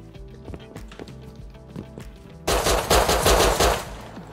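Gunfire in the survival game Rust: sparse scattered shots early, then a loud, dense rapid burst of automatic fire that holds for about two seconds before easing off.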